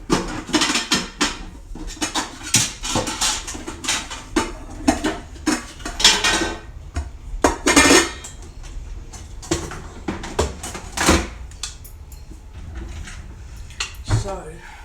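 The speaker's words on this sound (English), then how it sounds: "so I'm going to get the rice cooker out" Pots, dishes and a rice cooker clatter and clunk in a home kitchen as items are shifted and pulled out, a string of close, sharp knocks and scrapes in an irregular rhythm.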